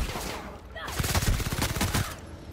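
An upgraded gun fires in The Outer Worlds during a fight with rock gorillas, a loud rapid burst of many close shots rattling for over a second after a quieter start.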